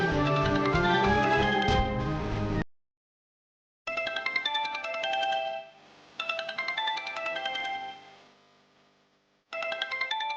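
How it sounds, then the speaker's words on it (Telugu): An incoming-call phone ringtone in a Telugu TV serial plays a loud, melodic electronic tune in repeated bursts, with short silent gaps between the rings and no one speaking over it. "ఇదేంటి, చిట్టమ్మ ఫోన్ చేస్తుంది?"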